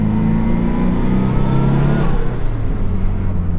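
A car engine revs hard and close, a loud throaty roar with rising and falling pitch, no voices.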